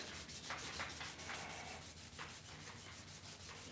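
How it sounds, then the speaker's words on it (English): Rhythmic sanding on a wooden knife handle, quick repeated back-and-forth rubbing strokes at a steady pace, close and continuous with no talking. "the only heavy sanding I'm doing is all on the wood"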